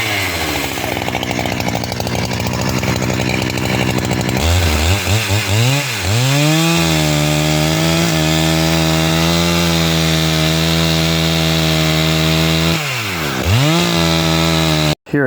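A chainsaw roars loud and close while boring into a walnut tree during felling, its engine pitch dipping and rising as the bar bogs into the wood and revs back up.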